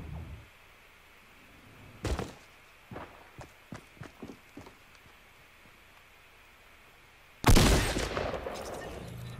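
Heavy shotgun shots in Fortnite Season 7, heard as a few isolated sharp blasts: one early, a quick string of quieter clicks and thuds, then a louder blast near the end, all without talk.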